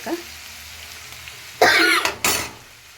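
Chicken gongura curry frying in a pan, with two loud bursts of sizzling in the second half of the clip over a quieter, steady hiss.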